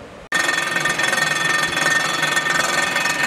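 A Blockmaster 85B resurfacing machine takes a light two-thousandths cut across a Jeep 258 cylinder head, starting with a sudden loud onset after a brief quiet moment, then a steady grinding, rattling cutter noise that continues alone.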